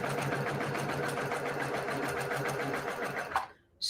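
A sewing machine stitches a quilt in a fast, steady close-up whir of rapid needle strokes, running continuously before stopping abruptly near the end.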